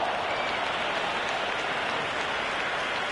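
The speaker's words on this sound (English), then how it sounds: "It's evident and ever so audible that the crowd is at near bursting point with excitement at today's play" A packed cricket stadium crowd at an India versus South Africa Test match roars in a dense, steady wash of cheering and clapping that holds at one level throughout, with no voices standing out.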